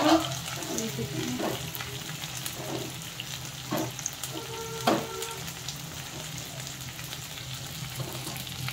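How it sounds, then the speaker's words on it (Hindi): Onion, green chili and garlic sizzle and fry in a pan in a home kitchen, with a steady hiss running underneath and a few sharp clinks of a spoon stirring. "प्याज हरी मिर्च लहसुन फ्राई हो चुके हैं"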